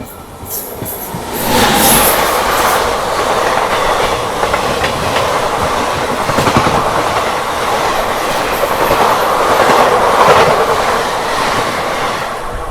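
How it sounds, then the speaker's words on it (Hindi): A passing train crosses alongside the Shiv Ganga Superfast Express, a loud, close roar of rail cars with rhythmic clickety-clack of wheels on track and brief metallic squeals, swelling after the first two seconds and holding steady. "यहाँ पर किसी ट्रेन के साथ अपनी क्रॉसिंग भी हो रही है।"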